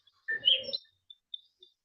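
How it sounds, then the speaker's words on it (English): Birds chirping outdoors, caught by a microphone: one short burst of bright chirps followed by a few faint, scattered peeps against quiet. "Yeah, there's birds."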